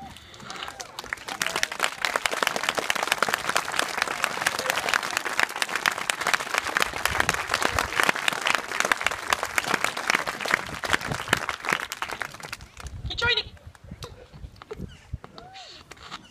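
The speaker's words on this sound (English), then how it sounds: "we are going to need another huge round of applause" Sustained applause from a large audience at an elephant display, steady dense clapping for around twelve seconds before fading, with a voice briefly audible afterward.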